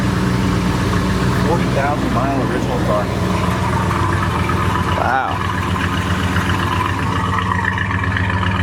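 A 1970 Chevrolet El Camino with 40,000 original miles idles steadily at close range, a low rumbling engine running continuously beneath a voice talking over it.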